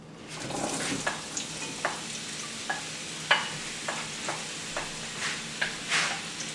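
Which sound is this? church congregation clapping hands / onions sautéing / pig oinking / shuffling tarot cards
onions sautéing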